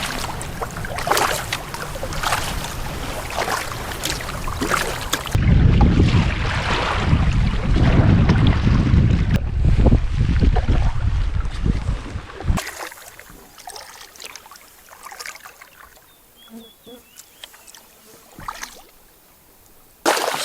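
Canoe paddling at night on James Bay: water sloshing and paddle strokes mixed with heavy wind buffeting the microphone, loudest in the middle stretch, then a quieter, sparse section of faint drips and splashes.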